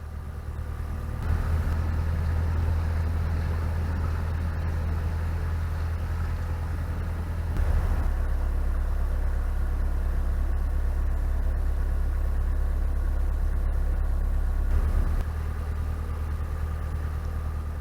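A narrowboat's engine runs steadily while cruising along a canal through a cutting, a loud, constant low throb with a brief surge in intensity partway through and no talk.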